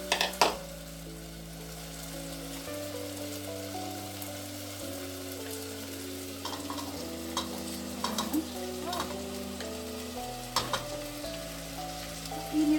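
Glutinous rice soaked in turmeric sizzling and being stirred in a pan with shrimp and pork for arroz valenciana, a continuous frying crackle with scraping stir strokes and occasional clinks, close and steady.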